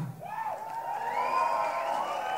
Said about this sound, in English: I want to hear you give a fucking big Round of applause for these guys here.